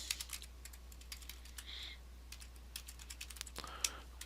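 Quiet typing on a computer keyboard: irregular light keystrokes spread through the stretch, soft and close, with a brief hiss of other noise midway and no talking.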